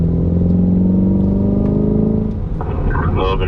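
A Chevrolet Corvette accelerates on a race track, heard from inside the car as a loud, droning engine note that climbs steadily and then breaks into a rougher, shifting tone near the end.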